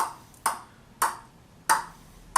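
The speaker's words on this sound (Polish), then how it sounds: "zobaczcie sobie, jak się to odbije i jaki dźwięk z siebie wydaje" Table tennis ball bouncing on a paddle with Sanwei Gear Hyper rubber: four crisp, evenly spaced hollow clicks, close and alone in a quiet room.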